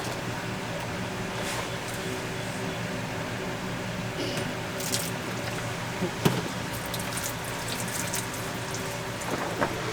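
Coolant drains from hoses into a pan on a Ford F53 with a 6.8L Triton engine, a steady close trickle and splash of liquid with occasional small clinks and drips.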